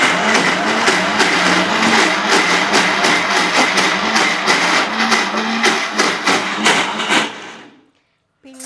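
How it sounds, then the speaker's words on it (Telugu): A mixer grinder whirs loud and close as gram flour batter blends in the jar, with rhythmic pulsing thuds through the roar for about seven seconds before it cuts off abruptly. "శనగపిండిలో వాటర్ పోసి మిక్సీ జార్లో వేయండి, మెత్తగా వస్తుంది"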